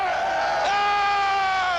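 Cleveland Browns fans cheering and whooping as a loud, dense stadium crowd, with sustained yells and a sharp surge partway through.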